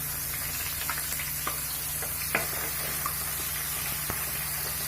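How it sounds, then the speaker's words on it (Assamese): Onions frying in hot oil in a kadai, a steady close sizzle with faint crackles and occasional soft pops and stirring clicks, no voices. "তেলটো গৰম হোৱাৰ পিছত মই পিয়াজ দিছো"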